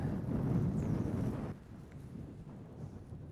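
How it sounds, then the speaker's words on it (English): Low, rumbling wind blowing down a canyon at Lake Amistad buffets the microphone, strongest in the first half and then easing to a softer, steady rush. "The wind is really blowing down this canyon."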